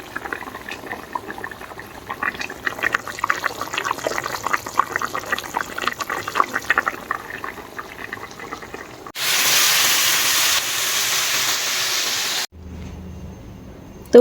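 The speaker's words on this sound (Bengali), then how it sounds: "এই যে টকবক করে ফুটছে, মাছ দিয়ে দিয়েছি, ধনেপাতা দিয়েছি" A pot of rohu fish curry with potato and eggplant boils hard with steady, close bubbling, then a louder rush of hissing, noisy sound takes over before it drops off near the end.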